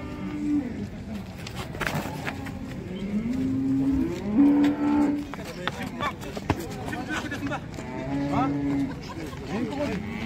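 Cattle mooing at a livestock market, several long, low calls from different animals rising over a background of crowd chatter and people talking nearby.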